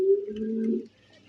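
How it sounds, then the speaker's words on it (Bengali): A farm-kept pigeon gives a single drawn-out coo, close by and clear, holding for most of a second before it cuts off into quiet. "দেখেন কবুতর ডাক, দেখেন"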